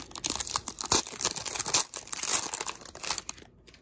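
Foil baseball card packs from 2013 Panini Hometown Heroes are torn open and crinkled up close, with bursts of sharp tearing and rustling crunches that are loud and uneven, coming in quick waves with no talking.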